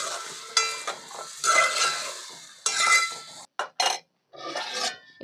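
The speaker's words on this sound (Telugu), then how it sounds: "గరిటెతో ఇలా మొత్తం కలిసేలా ఒకసారి కలుపుకోండి" A ladle stirs potato pieces with salt in a pan, producing several bursts of scraping and clinking against the metal, close and fairly loud, separated by short silent gaps, with no voices.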